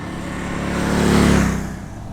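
A 2022 Indian Chief Dark Horse cruiser's big 1.8-litre V-twin rumbles and revs, the deep engine note swelling to a peak mid-clip before easing back, close and loud.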